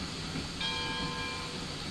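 A train rolls along steadily in a video game, giving a continuous rumbling hiss with a faint ringing, bell-like tone over it, at a constant level and with no talking.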